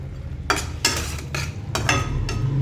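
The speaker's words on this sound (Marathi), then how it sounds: "आता हे छान लसूण अद्रकचा कच्चापणा जावं तो आपण परतून घेणार आहोत" Garlic and ginger sautéing in a pan with whole green chillies for a soybean tomato pulao, a steady low sizzle broken by several scraping stirs and light clinks of a spoon against the pan, with no talk.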